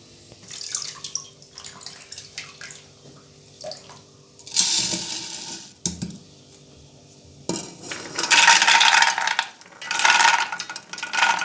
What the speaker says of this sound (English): I'm using a drainer to get rid of the water that it has been soaked in.